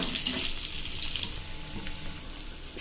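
Garlic, dried red chillies and curry leaves frying in oil for tomato pachadi, giving a bright hissing sizzle that is loud at first and then eases to a softer crackle.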